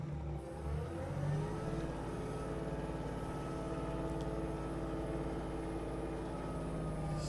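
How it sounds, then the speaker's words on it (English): Tractor engine running steadily outdoors, a continuous low droning idle with an even, unchanging tone, moderately distant and alone throughout. "And just how handy this tractor is."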